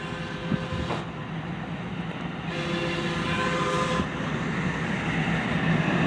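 A train, number 122, rumbles past Bachman Station in a loud, continuous roar of wheels and engine, with a brief horn-like tone in the middle; close and steady with no talking.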